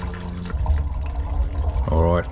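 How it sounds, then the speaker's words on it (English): Toilet flushed again during a blocked drain inspection, water rushing and gurgling close by with a low rumble, broken by brief tonal noises near the end. "All right, flushing again."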